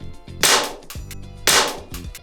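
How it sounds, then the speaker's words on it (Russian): A toy assault rifle fires pellets into stacked foam layers: two sharp, loud cracks about a second apart, each with a brief snap and short ringing decay, close by with no talk. "Такой вид, как будто настоящая пуля пробивает какие-то слои металла."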